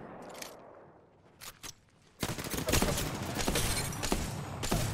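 Gunfire in the Apex Legends video game: a few quiet shots early on, then from about two seconds a dense, loud run of rapid bursts with sharp cracks mixed into continuous action noise.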